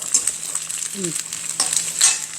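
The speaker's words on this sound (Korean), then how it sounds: "얘를 먼저 조금 먼저 볶는 거예요." Garlic scapes and shrimp stir-fry in a pan, a steady soft sizzle with occasional scrapes and clicks of chopsticks stirring, and a brief low voice in the middle.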